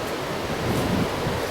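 A Scottish river in spate near St Patrick's Chapel, Strageath, rushes as a steady, loud broadband roar, mixed with some wind buffeting and no voices.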